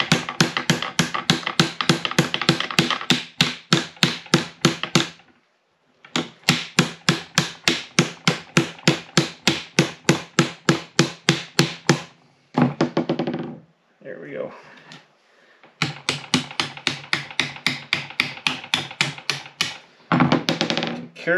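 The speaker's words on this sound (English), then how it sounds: "We gotta try to tap this stupid bolt over." Sharp metal hammer blows in fast rhythmic bursts, straightening the leaves of a rear leaf spring and knocking a bolt through on a 1937 Ford, loud and close with short pauses between runs.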